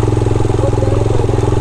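A motorcycle engine on a mountain trek near the Rupal face of Nanga Parbat runs loud and close, a steady throbbing idle with an even pulsing rhythm throughout.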